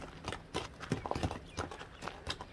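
A horse resembling a Turkmen breed clip-clops along in uneven, fairly quiet hoofbeats, a loose walking rhythm with no talk over it.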